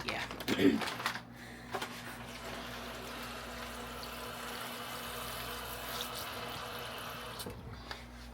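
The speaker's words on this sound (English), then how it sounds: "I just put this whole bag in the sink and then just pour cold water, like let the cold water run in there" Cold tap water runs into a kitchen sink over a bag of frozen shrimp, giving a steady close hiss that follows a brief clatter near the start.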